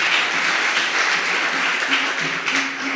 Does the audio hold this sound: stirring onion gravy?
no